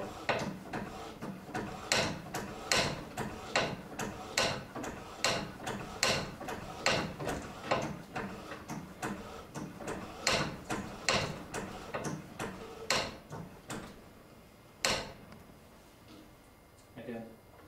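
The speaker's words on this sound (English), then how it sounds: "Continue swaging until the needle becomes level" A Sparex swage machine crimping a hose makes a regular series of sharp mechanical clunks about once a second, close and fairly loud, before it slows and goes quiet near the end.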